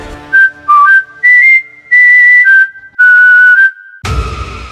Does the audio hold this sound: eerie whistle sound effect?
yes